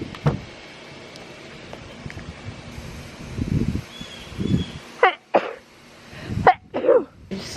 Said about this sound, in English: I just sneezed a bunch of times